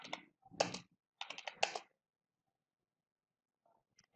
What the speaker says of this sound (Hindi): अब इस पे हम कुछ भी टाइप कर लेते हैं, कोई भी नंबर देते हैं